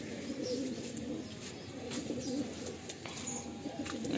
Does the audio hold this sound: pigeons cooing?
yes